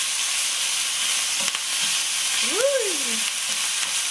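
Ingredients stirred around in a hot frying pan for sausage macaroni, a continuous close sizzle with light scraping; a voice briefly whoops partway through.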